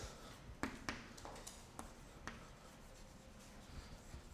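Chalk or marker writing on a board during a biophysics lecture, faint scratchy strokes with a few sharp taps scattered over a quiet room hum, heard alone and from some distance.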